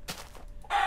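A Minecraft chicken gives a couple of short, close clucks in quick succession within under a second, with no talking.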